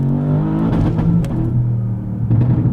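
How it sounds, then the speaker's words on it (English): Close, loud engine of a 2022 Porsche Panamera GTS Sport Turismo with PDK gearbox revving hard, its harmonic tone climbing and bouncing off the rev limiter, then dipping and rising again briefly. "oh my gosh, I ran into the rev limiter"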